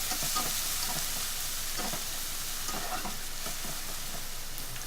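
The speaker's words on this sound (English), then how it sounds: "I'm adding the onions. I love the sound that it makes." Onions sauté in hot oil in a pan alongside peppers, giving a loud, steady sizzle with faint crackles and stirring scrapes, and no talk.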